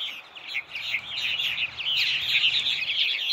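Purple martins calling in a front yard, a steady stream of chirps and warbling chatter from several birds, fairly loud and continuous with no talk.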